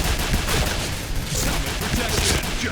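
Gunfire from a Pindad SS3 rifle in the video game Point Blank comes as dense, rapid, loud shots packed together in a continuous burst with no breaks.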